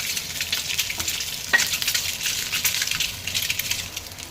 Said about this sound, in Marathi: चला अंडे छान फ्राय झालेले.